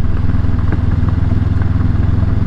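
Motorcycle ridden over thick gravel on a valley road in Spray Lakes Provincial Park, Canada: a steady, loud low engine drone with continuous rough crunching and clatter, no voices.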